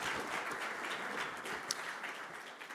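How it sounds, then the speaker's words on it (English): A conference audience claps for its panelists, giving steady, even applause that sounds moderately distant and fills the whole moment without voices. "So please join me again to applaud them"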